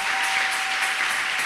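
A church congregation applauding, a dense and steady wash of clapping from many hands that fills the room and holds evenly without a break.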